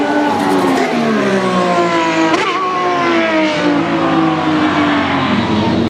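Formula 1 race car engines roar loud and continuous, a high sustained whine with a brief pitch shift partway through, as cars pass near.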